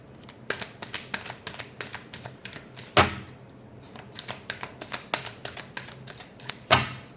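Tarot cards being shuffled, a fast run of crisp card flicks and taps with two louder riffle bursts, fairly close and with no voices.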